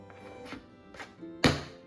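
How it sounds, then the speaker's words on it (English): A knife chops Snickers candy bars on a board a few times, soft taps followed by one firm, louder thunk near the end. "More than I already have chopping up Snickers."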